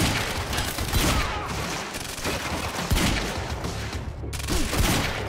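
Gunfire in the video game Quantum Break, a steady barrage of overlapping shots and booms filling the scene, with loud bursts recurring across several seconds and no voices.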